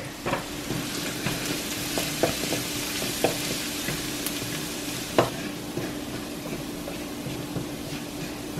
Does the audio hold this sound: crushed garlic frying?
yes